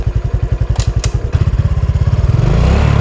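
A motorcycle engine runs close by with loud, chugging thumps that speed up as the revs climb into a faster, steadier drone.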